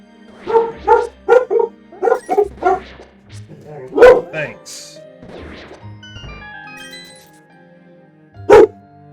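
A dog barks repeatedly at close range, a quick run of sharp barks followed by a few scattered louder ones, with a short spoken word in between.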